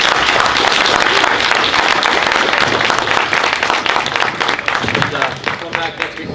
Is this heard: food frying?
no